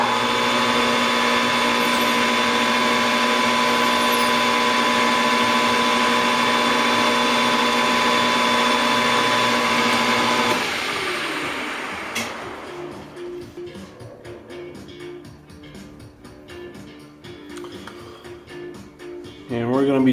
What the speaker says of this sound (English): we'll center drill it first, and then we'll drill our 15-30 seconds hole